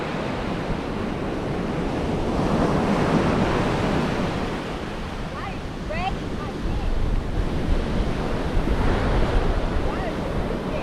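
Wind and surf roar on a Florida beach while surf fishing, a loud, continuous wash of breaking waves mixed with buffeting wind noise on the microphone throughout.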